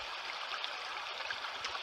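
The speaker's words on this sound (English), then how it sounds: "Let's look at the stream running here." Running water from a stream on a hiking trail at Cape Chignecto, a steady close rushing and gurgling that holds level across the whole short stretch with no voices.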